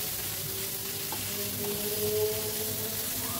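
Mashed fish sizzles and fries steadily in a pan over a high gas flame, stirred continuously, with a soft crackle and faint scraping throughout and no talking.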